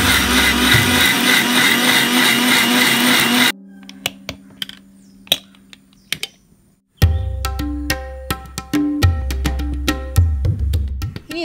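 A mixer grinder blends roasted chana chutney with water in a loud, steady whir that stops abruptly, followed by clicks and knocks and then a second burst of grinding.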